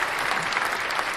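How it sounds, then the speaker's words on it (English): Steady burst of applause from an audience, loud and dense throughout with no break, many hands clapping together at close range. "I'm giving that a round of applause"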